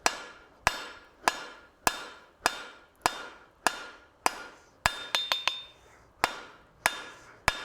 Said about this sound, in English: We'll just continue to hammer this right on out.